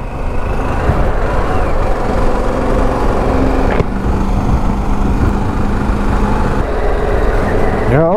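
A Harley-Davidson Pan America 1250 motorcycle engine runs continuously while riding, a steady low rumble mixed with wind noise, loud and close for the whole stretch.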